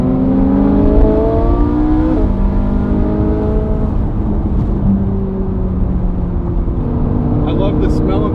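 A Ferrari F40 pulls hard along a winding road, its engine note climbing through gears in loud rising sweeps with brief dips at each shift, heard from inside or close by, continuous throughout.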